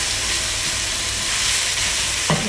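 Onions sautéing in a mix of butter, ghee and oil give off a loud, continuous hissing sizzle close up, with a brief clatter near the end.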